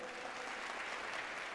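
Steady applause from a youth festival audience, dense overlapping clapping that fills the space evenly and continuously without pause or voices on top.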